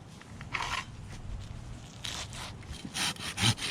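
Rhythmic rasping strokes of a hand saw cutting through a declining ash tree, steady back-and-forth bursts, close and fairly clear.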